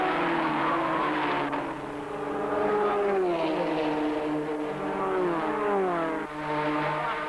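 Formula 3 race cars from 1978 scream past wheel-to-wheel, engine notes rising and falling in pitch as they chase each other around the circuit, moderately distant and continuous.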